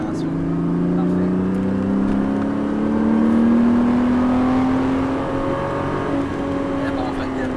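A car on a track accelerates out of a corner, its engine note climbing steadily in a close, loud in-car drone with a rising whine, while a voice is faintly present.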